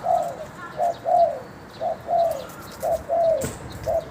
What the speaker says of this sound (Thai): อันนี้เป็นลูกนกที่ผม เก็บมาเลย